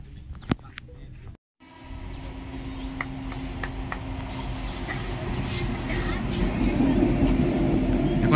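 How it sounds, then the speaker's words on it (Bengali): A freight train carrying automobiles rolls along a railway line toward Assam, its steady rumble and wheel noise building louder and nearer over the clip after a brief pause near the start. "এখন এরা দেখুন আসামের দিকে যাচ্ছে এই ট্রেনটা।"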